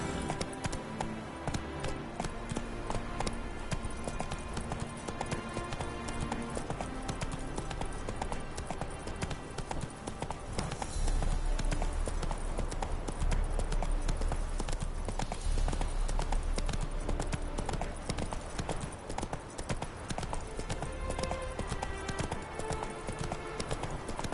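Horse hooves clip-clop steadily on the ground as Roach, Geralt's mount in the video game Witcher 3, trots along, a continuous rhythmic patter under a busy game soundscape with music throughout.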